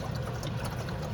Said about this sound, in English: I'm gonna add a splash of water here